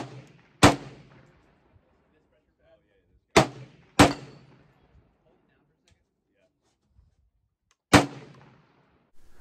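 Four loud rifle shots from a Saiga .308, fired at uneven intervals, each a sharp crack with a short decaying echo and quiet gaps between.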